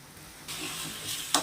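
Chicken pieces cooking in a pan for pickle, sizzling steadily as their water boils off, with the hiss swelling partway through and a sharper burst near the end; nearby, moderately loud, and no talking.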